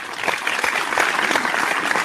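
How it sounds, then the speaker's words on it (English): Steady applause from a small crowd, clapping evenly at a moderate level without a break. "A little slower applause tonight from the crowd over there."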